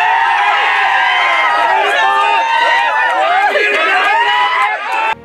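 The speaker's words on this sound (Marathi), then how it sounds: "रमेश कत्ती व माजी मंत्री ए बी पाटील समर्थकांनी जल्लोष साजरा केला" After the win in a rural electricity cooperative election, a dense crowd of supporters cheers and shouts in celebration. The roar is loud and sustained, with overlapping voices and whoops, then cuts off abruptly at the end.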